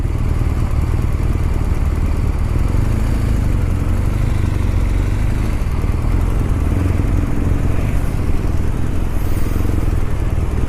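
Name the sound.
motorcycle engine in traffic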